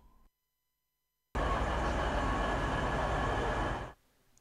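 Passenger train running between Zonguldak and Karabük in Turkey, a loud, steady rumble and rattle of wheels on track that starts abruptly after a short silence and cuts off near the end.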